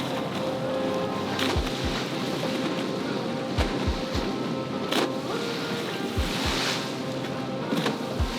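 Wind rushes steadily past a sailboat at sea, a broad airy noise with waves washing underneath and a few low thumps of the hull or rigging, moderately quiet and without voices.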